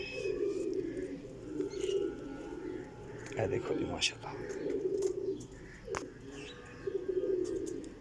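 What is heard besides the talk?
pigeons cooing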